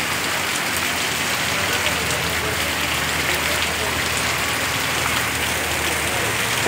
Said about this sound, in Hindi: बंजार टाउन में सब तूफानी बारिश